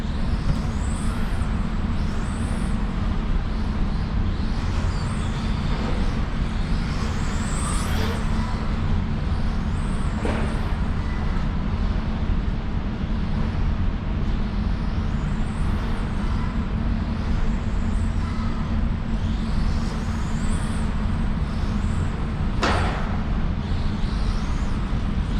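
An X Press Xecute FT1s RC car on a 3S lipo with zero timing throttles hard with its wheels spinning. A steady, loud whine and hum runs throughout with no letup, and faint high chirps come in now and then.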